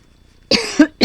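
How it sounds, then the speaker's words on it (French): Three short, close coughs in quick succession, the middle one deeper, with silence before them. "J'ai toujours cette toux"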